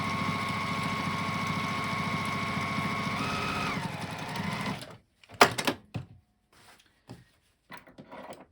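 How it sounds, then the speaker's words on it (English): A sewing machine runs steadily for about five seconds, stitching a quarter-inch pocket seam on a knitted project bag with a whirring, rhythmic drone that slows and stops, followed by a few handling clicks and rustles. "So these ones get sewn with a 1/4 inch seam."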